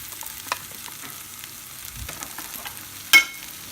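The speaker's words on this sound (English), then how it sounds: "So after 3 minutes of frying, my next step is to add in the smoked pancetta." Onion and smoked pancetta fry in a pan with a faint, steady sizzle and light stirring, followed by one sharp clatter near the end.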